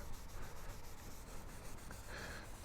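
G3 Pro scratch remover compound is worked into car paint by hand, producing a steady, fast, quiet rubbing scrub with a regular back-and-forth rhythm and no talk.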